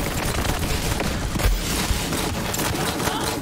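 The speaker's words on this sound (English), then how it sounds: "Are you enjoying shooting at me?" Enemy gunfire in the shooter game Borderlands 3, a dense, continuous crackle of rapid shots and thuds filling the whole stretch, loud and close, with no talking.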